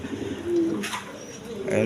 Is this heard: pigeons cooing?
yes